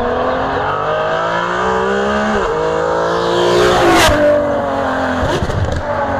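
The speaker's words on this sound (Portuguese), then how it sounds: "com um som absolutamente inacreditável de V12 Ferrari" A high-revving Ferrari V12 sports car engine screams through rising gear changes, loud and close, with sharp shifts and a brief tire chirp.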